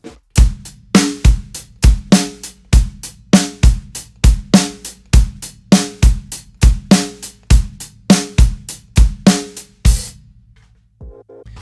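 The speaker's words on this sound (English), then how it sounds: "this groove that you see here is a fairly standard 8th note rock groove" A steady rock drum groove with kick, snare and eighth-note hi-hats plays alone at moderate tempo, loud and close, ending with a short decay.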